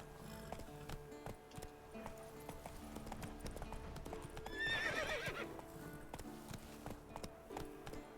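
Roach, Geralt's horse in The Witcher 3 video game, gallops with steady clip-clop hoofbeats and lets out a whinny partway through, over a layered game soundscape of music and ambience.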